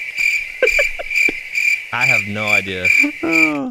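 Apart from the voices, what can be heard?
crickets chirping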